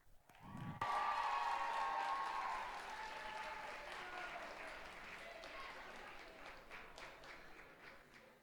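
An audience at a school talent show bursts into loud applause after a performer is introduced, the clapping swelling quickly and then gradually fading as it continues with light cheering.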